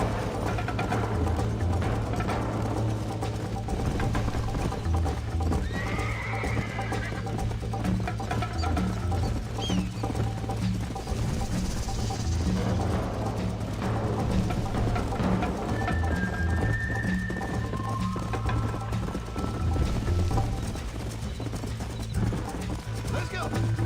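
Horse hooves clip-clop in a steady, rhythmic gait in Red Dead Redemption, heard under a continuous low background hum and mechanical game sounds.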